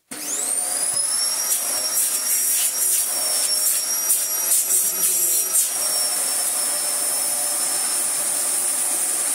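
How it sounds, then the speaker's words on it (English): A Hoover Hurricane 350 H3161 1600-watt vacuum cleaner runs continuously, loud and close, with a high steady whine over a broad rushing roar and intermittent rubbing or scraping bursts as the nozzle moves. "this is actually one of the most powerful vacuum cleaners in terms of wattage we've had on this channel for a while"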